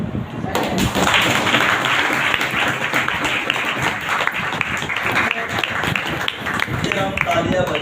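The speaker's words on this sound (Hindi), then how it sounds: "तालियां बजाएं आपने।" Congregation at a healing and deliverance church meeting clapping hands together, loud and close, with dense overlapping claps and some heavier thumps continuing without pause.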